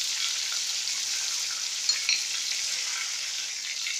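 Fish fry in hot oil with a dense, steady crackling sizzle throughout, close and fairly loud, with a couple of brief sharper pops near the middle.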